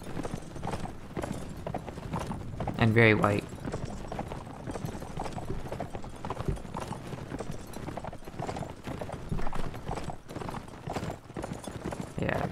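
Horse hooves gallop in rapid, steady clip-clop rhythm during a cavalry charge in the game Mount and Blade Warband, running continuously at moderate volume beneath battle noise and a voice talking over it.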